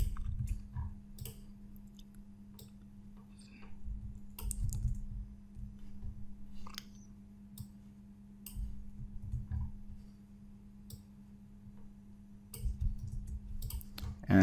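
Crisp, irregular clicks of a computer mouse while editing a web page, quiet and close, spaced apart over a constant low electrical hum.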